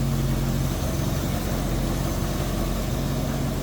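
A 1970 Ford Mustang Mach 1 with a 351 V8 and power steering idles smoothly, a steady low rumble with a constant hum and no voices over it.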